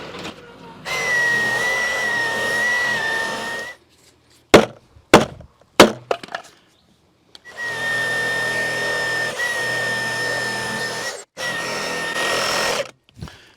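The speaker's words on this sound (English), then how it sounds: "And we'll finish it off with a sawzall." A reciprocating saw buzzes loudly through wood in two long runs during a shop build, separated by a few sharp knocks and clunks.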